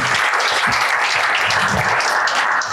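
A live comedy-show audience breaks into loud, dense applause, a continuous roar of clapping with faint voices mixed underneath.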